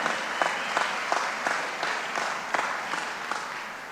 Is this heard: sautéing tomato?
no